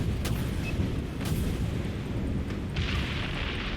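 Missiles strike spaceships in the space combat game Dreadnought, a rumbling wash of overlapping explosions with several sharper bursts rising through a dense, continuous roar.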